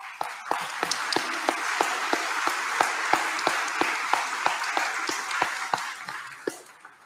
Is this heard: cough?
no